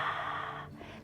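A long, breathy exhale during a gentle yoga session, close and soft, trailing off after about half a second.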